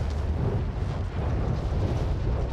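Rocket explosions in Call of Duty: Warzone Pacific, a continuous loud, rumbling roar of blasts that barely lets up.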